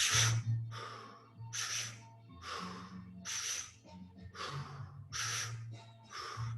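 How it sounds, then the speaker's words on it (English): Rapid mouth breathing in a repeating pattern of two quick inhales followed by an exhale, a breathy rhythmic cycle heard close and alone, with a faint low hum underneath. "2 inhales and then an exhale all through the mouth"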